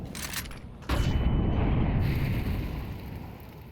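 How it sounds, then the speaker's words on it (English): A grenade and flashbang explosion in a video game hits as one sudden loud, deep blast about a second in, followed by a long rumbling, roaring decay with a thin ringing tone and no talking. "Grenade out. Grenade out. Flashbang."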